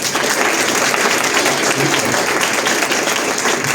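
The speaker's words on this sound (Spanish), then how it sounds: "yo quiero otro fuerte aplauso para la maestra" A lecture audience applauds a philosophy speaker in a dense, even wash of clapping that holds steady and loud for the whole stretch, with no other sounds rising above it.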